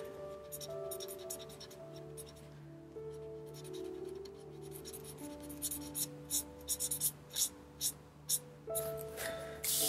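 Alcohol markers stroke across paper while colouring a page, giving soft, repeated scratchy swipes that grow more frequent toward the end, set against steady background music.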